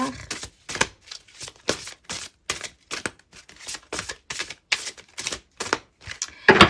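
Oracle cards being shuffled for a tarot reading, as a run of quick, crisp riffling bursts in a steady rhythm, close and fairly loud, with a louder flurry at the end.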